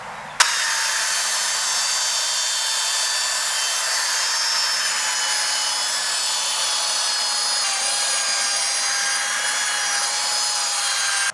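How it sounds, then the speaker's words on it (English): Cordless belt sander stripping old finish off wood, starting with a sharp click and then running as a continuous, even high whir and abrasive rasp without pause. "Doesn't take long to strip it off with the belt sander compared to other types of sanders."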